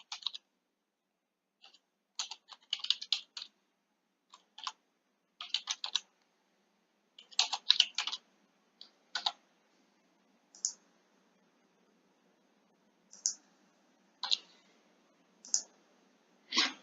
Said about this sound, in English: I'm just going to type here for a second.